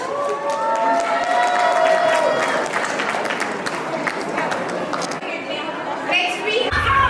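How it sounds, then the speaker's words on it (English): Audience at a cultural festival breaking into loud applause and cheering, a dense crowd roar of clapping with shouts and voices mixed in, sustained for several seconds before thinning out. "can I get a big round of applause?"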